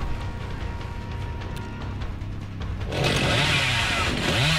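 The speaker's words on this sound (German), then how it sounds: "Diese Kettensäge hier," A chainsaw in the video game Dead by Daylight drones under a busy game soundscape, then swells into a harsher, louder revving roar in the final seconds.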